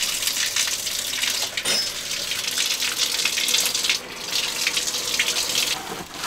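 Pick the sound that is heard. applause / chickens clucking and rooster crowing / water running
water running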